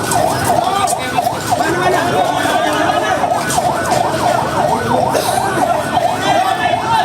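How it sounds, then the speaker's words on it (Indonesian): Wailing ambulance sirens, several overlapping, sound steadily through the scene of a commuter train crash at Bekasi Timur where one train was struck from behind, with background voices and crowd noise underneath. "Banyak ambulan belakang."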